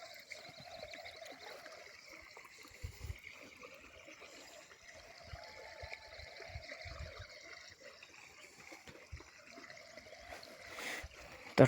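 Irrigation water flows steadily through a wheat field, a soft, continuous trickling stream that stays faint and even throughout, with no voices.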